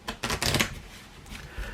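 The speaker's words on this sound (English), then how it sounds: "You can mix these up and then you're going to shuffle these together." A stack of about 25 playing cards being shuffled together for a magic trick, giving a quick burst of riffling and flicking in the first half-second, then softer handling noises, close and alone.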